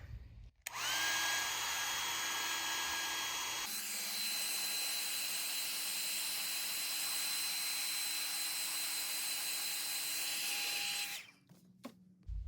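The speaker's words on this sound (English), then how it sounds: "The magical hair dryer. So we're gonna hit this mug for a bit, let it dry real quick" A steady, loud electric whine from a hair dryer drying a finish on an electric guitar, with a high-pitched motor tone, runs for about ten seconds, shifting pitch once partway through, then cuts off.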